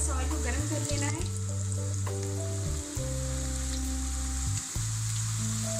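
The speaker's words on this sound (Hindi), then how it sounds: "इस तरह से हम रोल्स डाल देंगे गरम ऑयल में।" Spring rolls fry in hot oil with a steady, hissing sizzle that holds throughout, under a low, continuous background hum.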